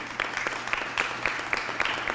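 An audience claps for a speaker at a Louisville public event, giving a steady run of regular, evenly spaced claps that fill the room from start to finish.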